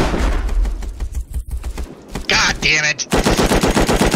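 Rapid machine gun fire in a survival video game while shooting at a patrol helicopter, loud close bursts of shots with short pauses between them, and a voice cursing partway through.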